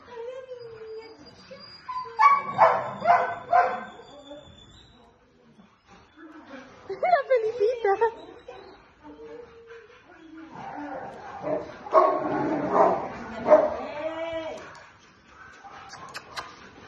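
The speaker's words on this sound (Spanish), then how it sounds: "¡Ay, cuántos perritos!" Several puppies yip, whimper and bark in bursts close by, mixed with excited talk from a woman playing with them.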